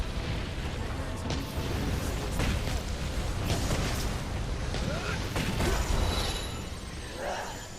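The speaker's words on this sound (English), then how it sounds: "Now he's going to just explode again" Rumbling explosions from an enemy blowing up in Dragon's Dogma Dark Arisen, with a dense roar of bursts and booms lasting several seconds before fading near the end, mixed with other combat noise.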